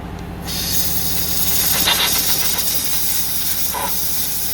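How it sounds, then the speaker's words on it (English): Red Stallion electronic cleaner sprayed onto an engine part on a 2015 Kia Sportage, a loud continuous aerosol hiss that starts abruptly and runs steadily close up, with faint clicks near the end. "we're just gonna hit it again, blow it off, hit it again until everything's clean"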